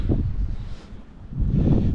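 Gusty wind buffeting the microphone, a low rumbling roar that eases in the middle and then surges back stronger.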